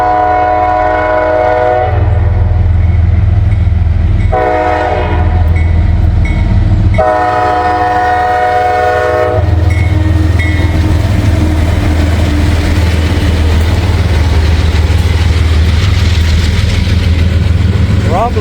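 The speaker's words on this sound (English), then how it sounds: "Got a train coming." Freight train rolling past at sunrise in Wyoming, a loud horn sounding in three long blasts over a heavy, continuous low rumble of wheels and cars that keeps going close by after the horn stops.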